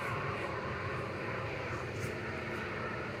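An easyJet Airbus A320neo airliner at Manchester Airport gives a steady broad distant engine roar throughout, with no talk.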